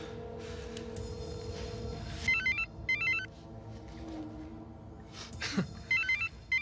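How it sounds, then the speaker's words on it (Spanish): A telephone rings in a house during a drama, the electronic trill repeating in short bursts over a steady background of music and room noise. "¿Puedes, por favor, contestar el maldito teléfono?"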